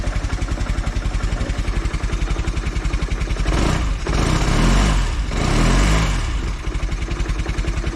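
A Velocette motorcycle engine idles while warming up, a steady rapid thumping beat close by, briefly rising in pitch with two short revs before settling back to idle.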